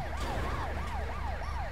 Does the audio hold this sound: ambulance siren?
yes